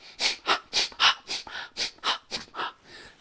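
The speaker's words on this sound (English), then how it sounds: "Number one, it's the breathing out." About eleven short, breathy exhalations in a steady rhythm, each a soft hissing puff, close to the microphone with brief pauses between.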